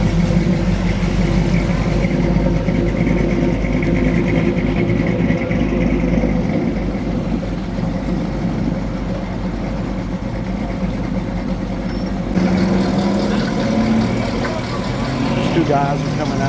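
A hot rod idles loudly and up close at a small-town cruise-in car show in Dunlap, Tennessee, a deep steady rumble with a slight lope that never lets up, while people talk nearby.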